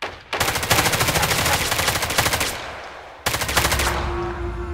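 Automatic gunfire in a Roblox shooter game, loud and close, with a sustained rapid burst of shots for about three seconds, a brief gap, then a second burst with a lingering ring.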